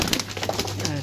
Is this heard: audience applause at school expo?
no